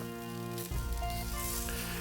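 Shashlik meat sizzles on a grill, a steady, close crackling hiss with no talk over it.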